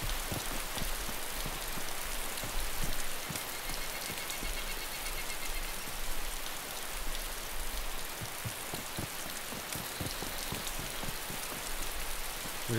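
Steady rain falling through a forest in the video game DayZ, a dense, even hiss of drops with scattered closer patters, continuous and without talk.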